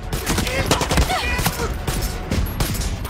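Gunfire in the Far Cry 6 video game: rapid, dense volleys of shots crackle almost without pause at a loud, close level, with a few heavier cracks standing out in the stream.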